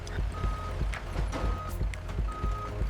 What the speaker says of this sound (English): the last truck of the day pulls away, fully loaded and ready to go.